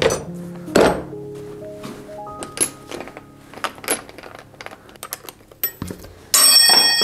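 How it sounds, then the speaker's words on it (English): A metal wrench dropped while reconditioning an early-2000s Trek hybrid bicycle, with sharp clanky impacts and ringing metallic clinks among scattered workshop knocks, close and loud at the end. "Oh, dropped a wrench."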